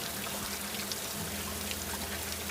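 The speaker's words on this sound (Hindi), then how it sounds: "बारिश हो रही थी" Steady rain falls in a dense, even hiss that runs unbroken and moderately loud throughout, with no voices.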